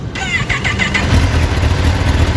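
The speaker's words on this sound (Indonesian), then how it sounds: "setelah ini kita akan menghidupkan Ninja H2" A supercharged Kawasaki Ninja H2 motorcycle engine cranks and catches, a brief starter whirr giving way to a loud, steady, rumbling idle heard up close with no talking.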